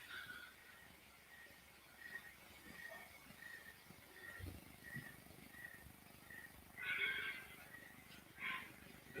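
Distant squeals of fighting wild hogs rise in short, harsh bursts over a low outdoor night rumble, with a louder flurry of shrieks near the end.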